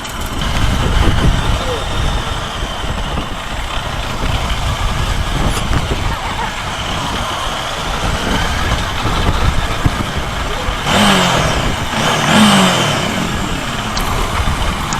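A Bajaj Dominar motorcycle engine rumbles steadily while riding off-road over a sandy track, close and loud, with wind noise and a voice talking over it.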